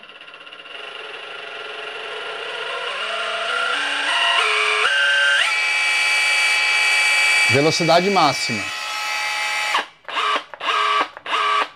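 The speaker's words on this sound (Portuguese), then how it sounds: "Olha o ronco do motor, que legal." A power drill motor whines and revs up in steps as the trigger is squeezed, climbing to a steady high pitch, then stops and restarts in short bursts while someone talks.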